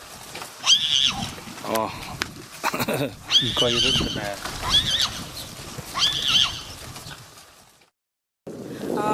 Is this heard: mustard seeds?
no